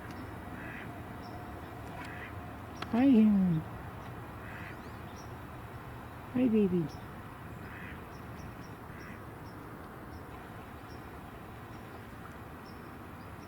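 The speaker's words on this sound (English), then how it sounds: "we just heard vocalizations of wood ducks" Wood ducks give two short calls a few seconds apart, moderately close, over a steady outdoor hum at a wetland where geese and a great blue heron are present; a person speaks softly between the calls.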